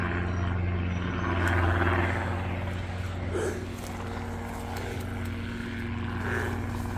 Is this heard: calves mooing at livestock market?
no